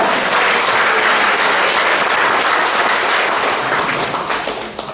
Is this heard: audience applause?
yes